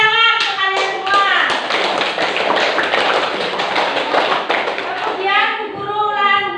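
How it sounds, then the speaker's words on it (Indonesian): A class of children claps hands together in a burst of rapid, loud applause, with talking heard before and after it. "Tepuk tangan untuk kalian semua."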